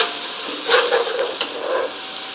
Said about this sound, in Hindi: जीरा डालने के बाद इसको 2 मिनट जीरे को भी हमने फ्राई करना है